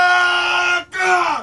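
Loud, sustained group screaming as panicked villagers of Dale under dragon attack, recorded for The Hobbit, two long high-pitched shrieks with a brief gap between them, the second sliding downward at the end.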